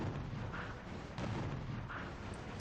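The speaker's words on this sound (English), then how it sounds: "The longest zooka shot of all time" Bazooka shot in the mobile strategy game Boom Beach, a few dull booming thuds spaced across the moment under a steady wash of game noise.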